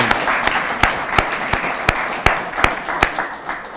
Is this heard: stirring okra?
no